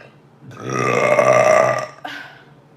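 One loud, drawn-out burp rumbles for over a second, then a shorter gulping burp follows, both close and prominent.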